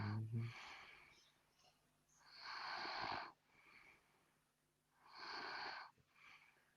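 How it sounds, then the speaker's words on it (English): A man snoring nearby, slow rasping breaths that rise and fall in long wheezy pulses, a couple of loud snores separated by quieter inhales, faint and alone. "That's the sound of a man snoring on the stream"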